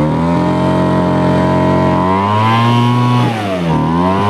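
A small two-stroke leaf blower engine runs steadily at high revs with Liquid Wrench sprayed into it, a loud continuous buzzing drone that dips and recovers briefly near the end.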